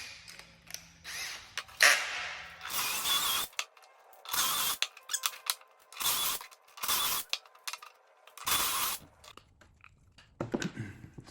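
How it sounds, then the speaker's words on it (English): A power drill bores into wood for a handmade custom urn, running in about five loud, whirring bursts separated by brief pauses, close by. "put your drill bit in your drill,"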